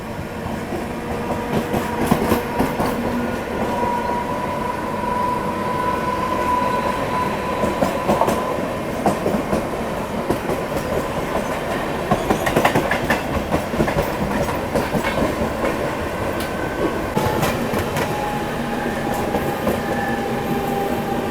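A Mumbai local train runs on a parallel track at night, its steady rumble and rhythmic clickety-clack of wheels over rail joints close and continuous, with occasional brief squeals.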